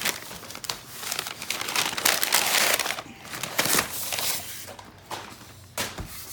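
A heavily taped cardboard package box holding pencils is handled and pried at, making loud close crinkling, tearing and crunching bursts in irregular spurts with short pauses between.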